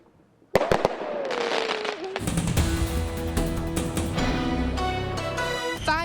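A firework is lit and set off outdoors: a few sharp pops and a hissing fuse, then a loud whistling, crackling burst of several seconds with rising shrieks near the end.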